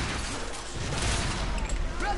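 Gunfire in the video game The Order: 1886, with dense continuous shooting and booms close up over a loud, busy game soundscape, lasting about two seconds.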